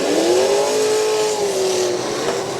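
Demolition derby car engine revving loudly at a county fair derby, a sustained close roar whose pitch rises and then holds steady before easing slightly, no talking.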